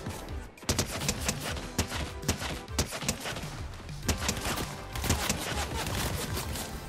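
A briefcase item in a video game fires at an enemy in loud, rapid bursts of shots, dense and punchy with short uneven gaps, sounding close and dominating the scene.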